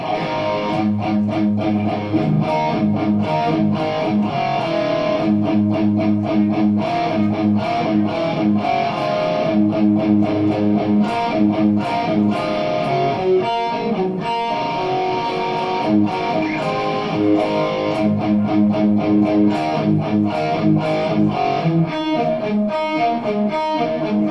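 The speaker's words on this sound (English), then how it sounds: "we'll show you this with distortion here." Distorted electric rhythm guitar plays riffs, strumming steady chords with a driving, chugging rhythm, loud and continuous with no voices.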